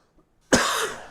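A single sharp, loud cough bursts out close to the mic after a brief near-silence, then trails off in a rough, breathy tail.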